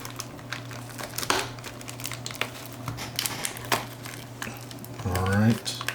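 A blade slices through the sealed wrapping of a Fleer Ultra Marvel Midnight Suns trading card box, close-up crinkling and crackling of plastic with a louder, drawn-out tearing cut near the end.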